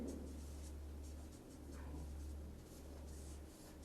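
Handwriting with a pen or marker during a matrices lesson, soft scratchy strokes in short bursts over a steady low hum, quiet and close, with no talking.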